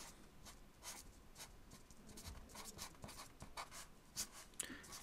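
A pen scratches across paper while directional hatching is drawn in pen and ink, giving a soft, steady run of short strokes, faint and close, with no voices.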